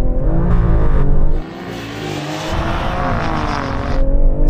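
A BMW M340i, Mercedes-AMG A45s and Alfa Romeo Stelvio QV launch together in a drag race, a loud roar of engines that drops briefly as a gear change hits, then builds again into a sustained rising drone.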